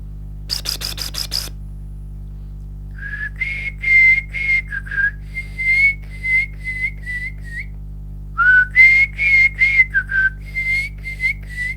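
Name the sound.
imitation of a whistling thrush's whistle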